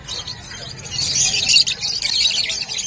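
Small pet birds at a Bocaue pet market chirp and tweet in quick high bursts, moderately close, against a low background murmur of the market.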